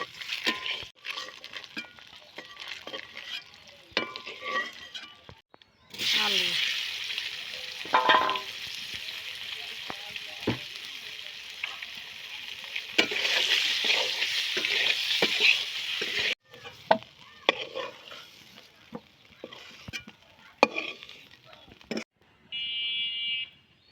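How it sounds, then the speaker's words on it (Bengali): Duck eggs frying in a pan with potato, a steady loud sizzle rising and falling with stirring and scraping, a bright electronic beep near the end. "ডিমগুলো বাজিয়ে নেবো ভালো করে ডিমগুলো সুন্দর করে বাজিয়ে নিচ্ছি"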